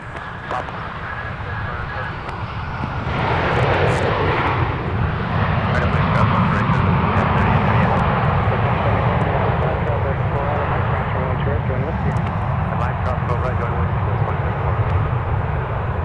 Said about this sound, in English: So that is Delta Flight 792 from LAX, another A321.